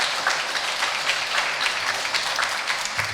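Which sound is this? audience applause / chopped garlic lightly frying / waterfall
audience applause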